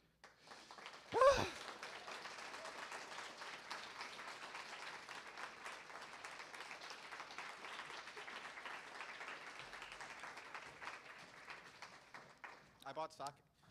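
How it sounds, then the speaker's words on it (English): An audience claps through most of the stretch, a busy crackle of many hands after a sharp knock near the start, with voices talking over it and a brief burst of noise at the very end. "And you can clap for that."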